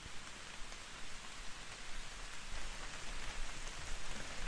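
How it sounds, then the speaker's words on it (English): Steady rain falls outdoors, a soft continuous patter of drops on surfaces, fairly quiet and even, with no voices or other sounds over it. "And here comes the rain again"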